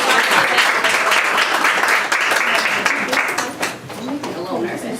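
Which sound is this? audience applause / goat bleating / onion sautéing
audience applause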